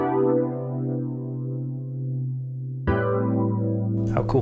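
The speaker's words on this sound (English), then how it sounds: "taking that same MIDI and throwing it into taped vibes" A taped vibes virtual instrument from HALion Sonic 7 plays a sustained solo chord progression with a warm, wobbly tone, one held chord giving way to a brighter new chord near the end.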